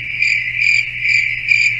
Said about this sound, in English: all you hear is crickets